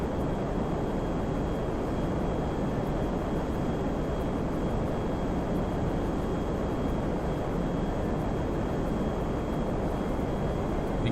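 Steady, loud broadband jet engine roar from an F-15E Strike Eagle in GTA5 on landing approach with gear and flaps lowering, a continuous drone with no talk.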